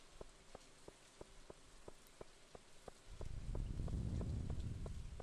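Steady rain falls in Stardew Valley, faint soft patter with regular ticking, then a denser, louder rush of rain swells in toward the end.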